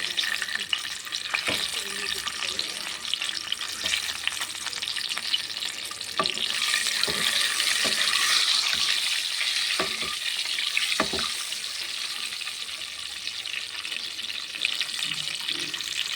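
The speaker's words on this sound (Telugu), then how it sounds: "ఇప్పుడు ఎగ్స్ గాట్లు పెట్టుకున్నాం కదా ఇవి ఫ్రై చేసుకోవాలి" Scored eggs fry in hot oil in a pan for egg biryani, with a loud continuous sizzle and occasional spoon scrapes and knocks as they are turned, no talking.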